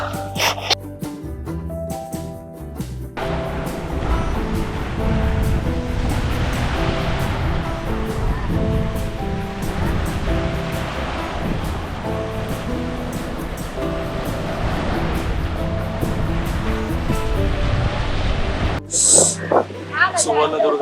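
Sea waves wash steadily around the island fort of Suvarnadurg near Dapoli, a loud continuous surf roar that fills most of the stretch, with a voice speaking briefly at the start and end.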